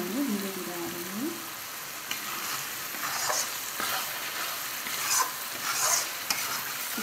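Chicken curry masala sizzling and frying in a pan while being stirred, soft scraping strokes and bursts of sizzle throughout, close and fairly quiet, with no talk.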